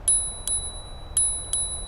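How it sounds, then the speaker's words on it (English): A small bell on a Hiboy S2 MAX electric scooter gives four bright, clear dings at uneven intervals, close and fairly loud, with no talking. "It's got this really charming little bell on it."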